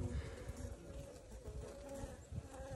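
Honeybees from a newly installed three-pound package buzz inside the hive, a faint, continuous, close hum with no speech.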